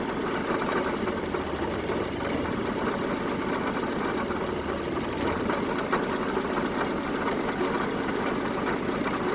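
A first-generation Honda Civic engine idles steadily with a misfire, a rough, uneven knocking rhythm in a continuous mechanical drone with no voices.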